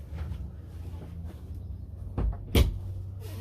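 Wardrobe cabinet door in a Montana High Country 383TH fifth wheel RV opening, a couple of soft thuds and a sharper close knock near the end, heard up close without talk.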